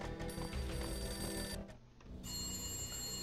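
A phone ringing in the video game Max Payne, a beaten-up phone in an entrance hall, gives a steady electronic ring that fills the clip. The ring breaks off briefly midway, then resumes, loud and close with no talk.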